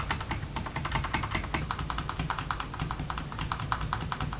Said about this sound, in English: The keys on the Mark II appear to be slightly clickier and less dampened.